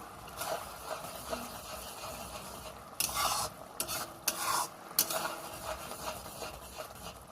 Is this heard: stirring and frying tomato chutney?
yes